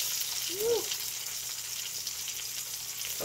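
Salmon fries in a hot pan with a steady, close hiss and crackle throughout, broken briefly by a short whistling tone near the start.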